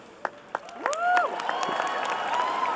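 Atmospheric and oceanic sciences graduates cheer and whoop at a large outdoor university commencement, with a few sharp claps and rising shouts swelling into sustained crowd noise.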